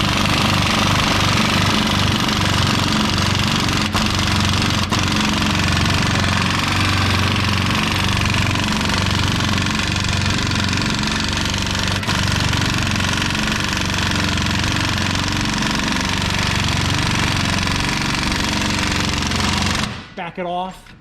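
Loud, continuous impact-wrench style hammering as rear spring shackle bolts are tightened on a 2000 Ford Ranger, a dense rattling burst running for about twenty seconds before cutting off abruptly.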